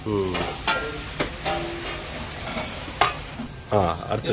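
Tomatoes frying in a pan for chicken gravy, a soft sizzle with repeated stirring scrapes and clinks, under intermittent nearby talk.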